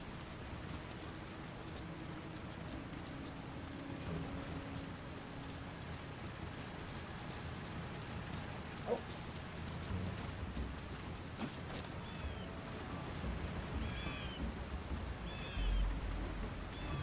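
Rain falls in the video game Metal Gear Solid V, a steady, soft wash of noise with a faint distant rumble and a few brief chirps, no voices.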